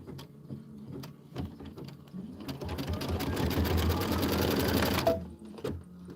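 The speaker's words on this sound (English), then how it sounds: "make sure it's feeding out as it's stitching." A computerized embroidery sewing machine stitches a quilting block, its needle hammering in a fast, steady whir that builds up and runs for several seconds, then stops abruptly. A few softer mechanical clicks come before and after.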